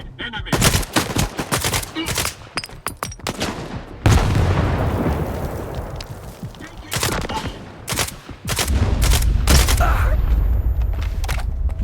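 S.T.A.L.K.E.R. 2: Heart of Chornobyl combat: rapid bursts of automatic gunfire crack in close succession, broken by a heavy grenade-like blast with a rumbling tail, then more loud volleys, with occasional shouted voices.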